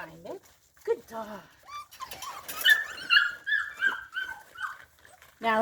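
Several puppies whimper, yip and whine in a run of high, wavering cries near the mic, with a few short barks, while a person talks over them.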